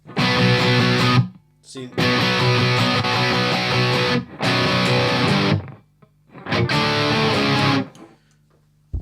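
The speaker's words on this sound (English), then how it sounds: "It's just tightening up the distortion that I've got." Heavily distorted electric guitar plays in four loud strummed bursts separated by short silences, with a brief spoken word in one gap.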